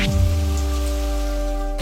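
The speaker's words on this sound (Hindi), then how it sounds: "अचानक बिन मौसम बारिश।" Sudden unseasonal rain in a fantasy TV drama, a steady dense hiss of rainfall on surfaces that starts abruptly and continues evenly throughout, with a low rumbling layer underneath and no voices.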